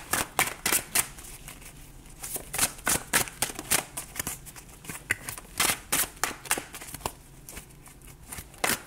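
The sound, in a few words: tarot cards being shuffled for a reading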